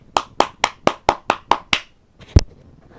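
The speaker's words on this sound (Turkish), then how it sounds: "Alkışlıyorum." Seven sharp, close hand claps in an even, steady rhythm, followed by a short pause and then one louder, heavier impact.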